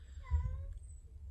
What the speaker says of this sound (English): I have one that is very vocal and will cry at me until I feed him